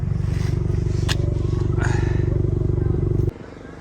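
A Honda Accord (2018–2023) idling with its active exhaust valve open, a steady deep pulsing rumble close by with brief noises over it, dropping suddenly to a quieter drone near the end.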